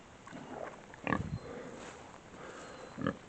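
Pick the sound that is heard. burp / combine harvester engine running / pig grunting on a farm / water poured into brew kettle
pig grunting on a farm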